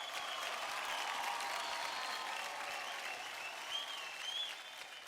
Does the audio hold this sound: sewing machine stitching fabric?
no